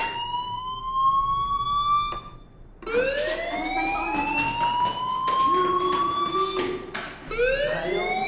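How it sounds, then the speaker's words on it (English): A school fire alarm blares in the Life Is Strange video game, a loud pulsing siren-like tone that cuts off briefly and then resumes in rising, repeating wails. "Hey, do you hear that fire alarm?"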